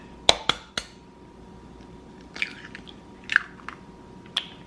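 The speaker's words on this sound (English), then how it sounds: "It says 3 eggs, so I'm gonna crack those and just put them directly into" Three eggs cracked one after another into cake mix, each a sharp close tap on a hard edge followed by soft squishy wet sounds as the contents drop in, with pauses between.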